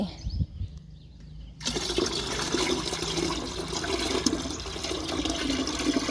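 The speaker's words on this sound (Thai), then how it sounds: "เดี๋ยววันนี้ก็จะเทลงใน บัวรดน้ำนะคะ" Rice-washing water poured into a watering can, prepared for watering Thai eggplant plants: after a quiet start, a steady, close rushing pour runs without a break to the end.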